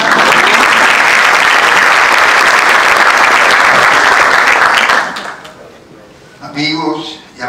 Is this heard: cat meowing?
no